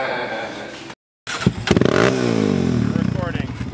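A four-wheeler ATV engine, loud and close, rising in a strong revving pitch sweep after a brief cut, with a rough, buzzing drone and people talking over it.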